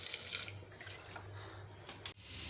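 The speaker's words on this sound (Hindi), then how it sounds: "अदरक, लहसुन, हरी मिर्ची और साबुत धनिया डाल के इसमें थोड़ा पानी डाल लेते हैं" Water pours from a tap into a cooking pan holding ginger, garlic, green chilies and whole coriander for an arvi dish, a close, steady splashing trickle with no talk.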